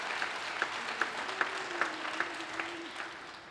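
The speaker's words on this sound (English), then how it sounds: "Can we do a round of applause and some love for them?" Applause from a church congregation during a Sunday service, a soft, somewhat distant spread of clapping with regular sharper accents, while a faint sustained tone runs underneath.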